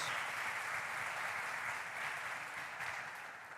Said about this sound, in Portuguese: Vamos aplaudir Jesus por causa disso